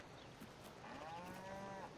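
Cattle moo inside a barn in the farming game Farming Simulator 22, a single drawn-out low moo rising and falling over steady ambient barn noise.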